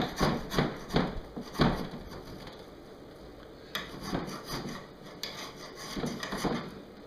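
Wet, rotted wood scraped off the aluminum of an RV bunk, heard as a series of short, coarse rasping strokes in uneven bursts with brief pauses between them, close and moderately loud.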